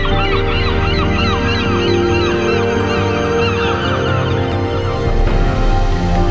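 A flock of geese honks over a bay in Picardy, France, many overlapping calls in a loud, continuous chorus, close and busy, with no one speaking.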